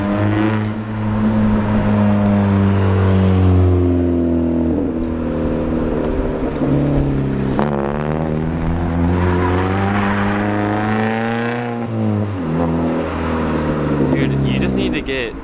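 A car pulls away hard and accelerates, its engine rising in pitch through several gear changes and staying loud close by, with voices talking over it throughout.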